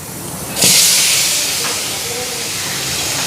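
Potatoes drop into hot oil in a kadai, setting off a sudden loud hiss that flares and then settles into a steady, softer sizzle.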